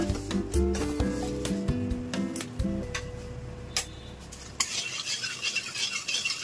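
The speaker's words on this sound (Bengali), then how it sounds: "মশলাটা ভাজা হোক" Spice paste with a dried red chilli and a pinch of sugar stirs in a hot pan, a spoon clinking and scraping in quick irregular strokes against steady frying, close and fairly loud.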